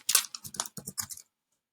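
Quick, light keystrokes on a computer keyboard while entering a book cover title in Canva, about eight soft clicks in a short burst before silence.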